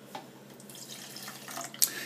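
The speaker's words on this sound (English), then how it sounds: "put the water in to the shaker jar first" Water pours steadily from a tap into a shaker jar while a protein pancake mix is prepared, a close, moderately quiet trickling stream with a small splash near the end.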